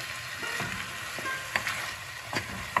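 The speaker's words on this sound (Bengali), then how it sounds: "এখন আমি সর্ষে বাটাটা দিয়ে দিলাম" Mustard paste hitting frying grated coconut in a pan for a Bengali red spinach stem dish, giving a steady close sizzle with a few sharp crackles and spatters, no talking.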